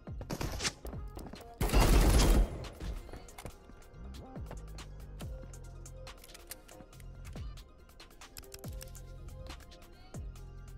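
A burst of rapid gunfire in the video game Marauders crackles loudly near the start, followed by scattered single shots and thuds over a quiet, humming background.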